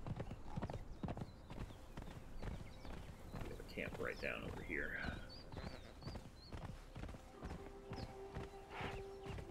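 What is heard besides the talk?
horse hooves clip-clopping in Conan Exiles video game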